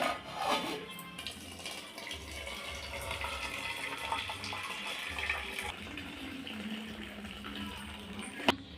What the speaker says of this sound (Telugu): ఇలా ఉడికాక ఈ నీళ్ళు వంపేసుకోవాలండి.